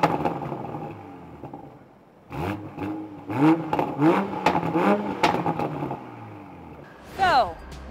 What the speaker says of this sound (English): now we have to see what this inline six cylinder in the Toyota Supra sounds like